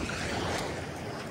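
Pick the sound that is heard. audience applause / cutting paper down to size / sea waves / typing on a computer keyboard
sea waves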